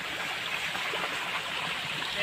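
Steady rushing of running water at a communal water source where people fetch water, a broad continuous wash with no breaks, while someone talks faintly in the background.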